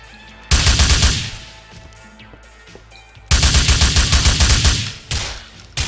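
Gunfire in GTA IV, two loud bursts of rapid automatic shots, each about a second to two long, separated by a quiet gap, then a short final volley, close and without speech.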